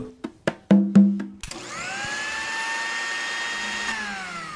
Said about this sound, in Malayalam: എന്തോ അടുക്കളയിൽ മിക്സി ഓണായി.